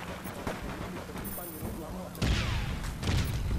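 Muffled grenade blasts in a first-person shooter game, a heavy boom erupting partway through and another following, over a busy background of game noise and gunfire with faint voices.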